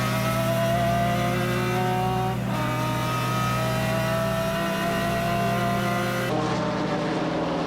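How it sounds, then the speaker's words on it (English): The 1995 Le Mans-winning McLaren F1 GTR race car, shown at an endurance racing event in Qatar, roars with a loud, sustained engine note, shifting pitch as it revs and changes gear, close by with no talk. "1995 Le Mans winning Ueno Clinic McLaren F1 GTR"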